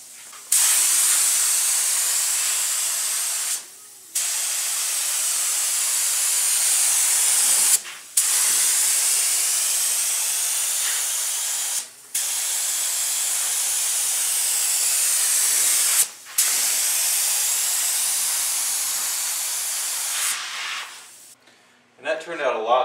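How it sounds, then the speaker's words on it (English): Steady hissing spray bursts of an aerosol can of clear coat paint, four long passes separated by brief pauses, close and loud, ending with some clicks. "Then you're going to spray some clear coat."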